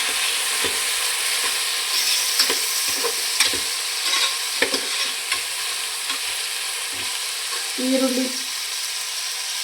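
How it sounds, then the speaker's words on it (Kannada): Sliced onions sizzle in hot oil with curry leaves, a constant frying hiss broken by light clinks and scrapes of a spoon stirring the pan, close and alone without speech. "ಈರುಳ್ಳಿ ಚೆನ್ನಾಗಿ ಗೋಲ್ಡನ್ ಕಲರ್ ಬರೋವರೆಗೂ ಸ್ವಲ್ಪ ಫ್ರೈ ಆಗಬೇಕು"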